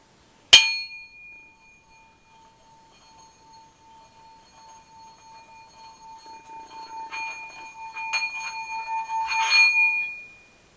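A Nepalese singing bowl is struck once with its striker, giving a bright metallic ring that lingers and fades, followed by a growing shimmering, wavering tone as the striker is rubbed or played around the rim, building louder toward the end.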